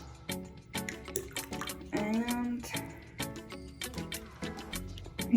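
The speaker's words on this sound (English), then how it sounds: "We're gonna take a little bit of water from ours" Aquarium water scooped and poured into a fish transport bag, with soft splashing and trickling in short bursts, plastic bag crinkling, and a brief spoken word over the close handling noises.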